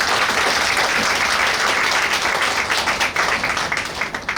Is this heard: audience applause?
yes